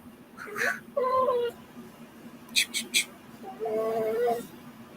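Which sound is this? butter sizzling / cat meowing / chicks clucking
cat meowing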